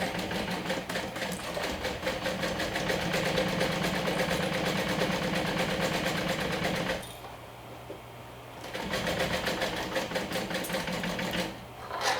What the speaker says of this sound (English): Let's stitch with 1/4 of an inch seam allowance.